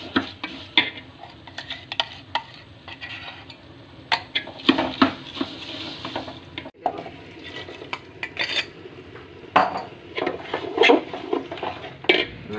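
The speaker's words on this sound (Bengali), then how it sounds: "একটু নাড়াচাড়া দেব।" Egg being stirred in a pan with dalda and oil for sweet vermicelli, giving irregular clinks and scrapes of a utensil against metal, fairly close, with busy clatter bursts and no talking.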